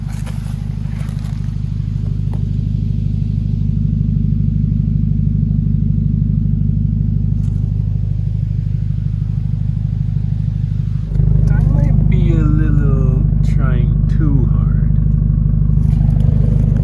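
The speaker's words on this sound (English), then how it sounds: "I'm actually trying to drive over the top of the rut, but I keep sliding back down in the hole." Steady low engine drone from a vehicle towing a trailer over a rut on soft mossy ground, with the idle jumping to a louder, strained rumble partway through as it struggles, and someone talking over it.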